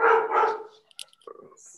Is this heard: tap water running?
no